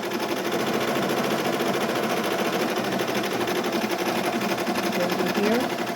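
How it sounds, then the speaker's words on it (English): An embroidery machine stitches white thread onto a Halloween shirt with a steady, fast mechanical whir and rapid needle patter, close and continuous with no talk over it. "it's going to embroider the white thread first."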